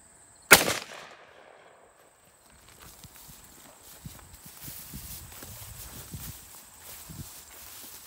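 SKS rifle firing a single 7.62x39 mm round at close range into a Kevlar helmet, one sharp loud crack followed by a decaying ring, then quiet rustling and footsteps afterward.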